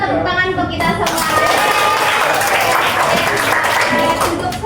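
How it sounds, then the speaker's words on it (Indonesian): Children in a classroom clap together in a dense, steady burst of applause that starts after a brief moment and carries on to the end, with young voices chattering and calling out underneath. "Oke, Ibu minta tepuk tangan untuk kita semua."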